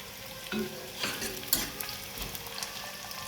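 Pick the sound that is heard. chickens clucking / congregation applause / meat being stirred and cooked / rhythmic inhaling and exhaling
meat being stirred and cooked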